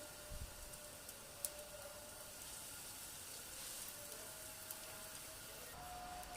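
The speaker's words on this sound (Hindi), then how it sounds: "अब हम इसे फ्राई करते हैं, जो कि हमें गोल्डन फ्राई चाहिए।" Bread slices for shahi tukray fry in hot oil in a pan, a faint, steady, even sizzle with a couple of small pops and no voices over it.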